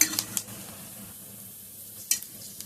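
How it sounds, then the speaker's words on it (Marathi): Wheat kurdai fry in hot oil with a soft, steady sizzle, broken by a few sharp clinks of a utensil against the pan near the start and again toward the end. "सर्व बाजूनी मस्त तळल्या जाते"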